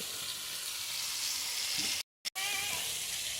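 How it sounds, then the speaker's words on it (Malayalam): Loud, steady sizzling of sliced onions sautéing in hot oil for biryani, continuous and close, broken by a brief cut near the end. "സവോള നല്ലോണം വഴറ്റിയെടുക്കാം"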